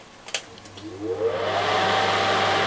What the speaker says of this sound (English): it's just a fan that sucks the muck in